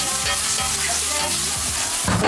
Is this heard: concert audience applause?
no